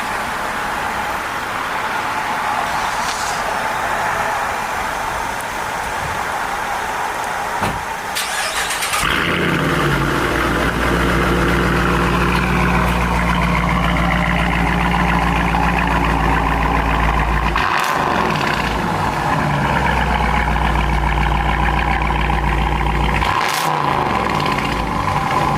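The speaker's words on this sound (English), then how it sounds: "Start this thing up. We're gonna hear what's going on. Got the exhaust done." A Dodge Challenger convertible with a newly fitted exhaust starts up, its engine catching with a sharp burst and settling into a loud, deep, rumbling idle punctuated by a couple of throttle blips.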